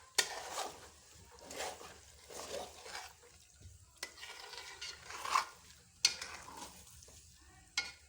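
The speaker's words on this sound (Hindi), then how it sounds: "तो इसके साथ साथ हिलाते जाएंगे ताकि ये साथ ना लगे।" Thick makhani halwa being stirred in a pot, a spoon scraping and slopping through the mixture in irregular strokes with occasional sharp knocks against the metal, close and fairly quiet, without voices.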